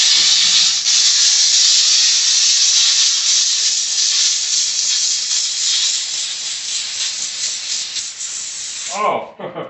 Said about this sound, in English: You're getting a lot of steam in here.